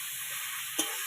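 Potatoes tipped into a pan of spiced curry frying in oil for a Bengali prawn and bitter gourd dish, a steady hiss of frying with one brief clatter as they drop in, no voices.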